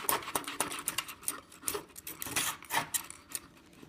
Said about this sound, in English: I take my saw, being careful here. This is a box miter, so the blade will stay in that channel